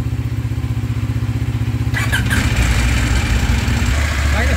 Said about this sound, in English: Kind of sounds like the valves have all shaken loose on the KTM.